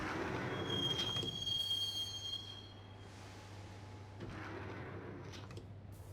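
A train ride in the Max Payne video game heading to Roscoe Street Station: a steady low rumble of a rail car with a thin high wheel squeal early on, then a rising rush of movement, no voices.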